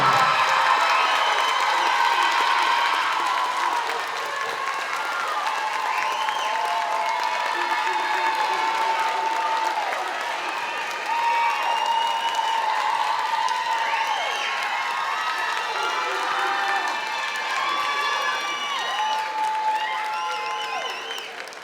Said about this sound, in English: Please join me in congratulating these graduates with a round of applause.